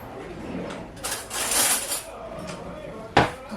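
Cutlery clatters and a drawer slides while strawberry jam is being water-bath canned in a kitchen, a few rattling bursts ending in a sharp metallic clack, close and fairly loud.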